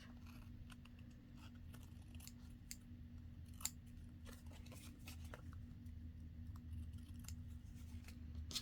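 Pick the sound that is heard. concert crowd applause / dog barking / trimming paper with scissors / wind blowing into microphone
trimming paper with scissors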